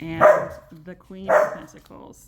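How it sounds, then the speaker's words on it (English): A household dog barks twice, short sharp barks about a second apart, close by and loud, mixed in with a person talking. "I apologize about the dog noise, but it just can't be helped"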